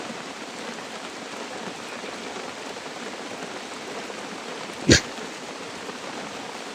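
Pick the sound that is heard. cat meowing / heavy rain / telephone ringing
heavy rain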